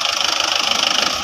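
A Mahindra 585 DI XP Plus diesel tractor engine runs close by, a steady, fast, even chugging throb with a loud, constant level and no talk.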